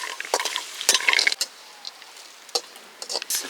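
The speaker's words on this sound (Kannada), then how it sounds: "ದ್ರಾಕ್ಷಿ ಗೋಡಂಬಿ ಹಾಕ್ಕೊಂಡು ಅದು ಫ್ರೈ ಮಾಡ್ಕೊಳೋಣ." Raisins and cashews fried in ghee in a pan outdoors in a forest village, with scattered sharp scrapes and clinks of a stirring spoon against metal over a faint sizzle, in irregular close bursts.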